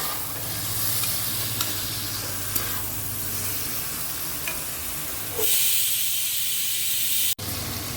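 Quail pieces sautéing in a pan, a steady close hiss and sizzle with occasional stirring clicks, the frying growing brighter and louder toward the end before a sharp knock.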